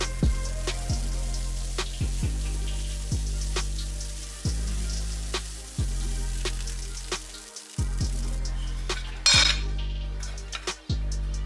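Fried rice with ginger being mixed in a bowl, with repeated clinks and scrapes of a utensil against the dish at a steady stirring rhythm, close and fairly loud, with no talk.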